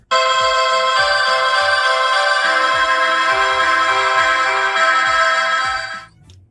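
A Philips battery-operated 90 dB wireless doorbell, model 498968, plays its Mozart melody chime, a bright, loud electronic tune ringing continuously for about six seconds before cutting off, with no talking.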